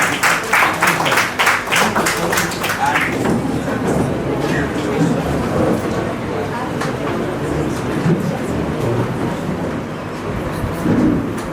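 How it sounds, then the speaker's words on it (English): A large crowd at a conference seminar applauds steadily, a dense wash of clapping that carries on for several seconds at a fairly loud, even level. "a big applause for our"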